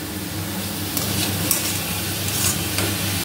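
Chicken and vegetables frying in a pot on a gas flame as the base for a chicken vegetable soup, a steady close sizzle with occasional stirring scrapes throughout, no voices.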